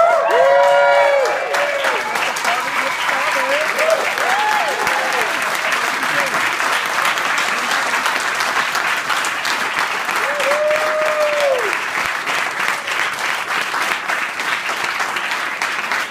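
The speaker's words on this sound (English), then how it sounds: "a round of applause for our newlywed couple" Wedding guests give the newlywed couple a long, steady round of clapping that carries on without a break, with a few voices and cheers rising over it near the start.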